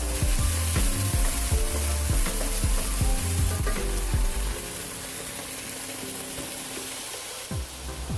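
Red curry paste frying in a pan with the oil poured off, a loud continuous sizzle with rhythmic scraping stirs in the first half, then a slightly softer steady frying hiss.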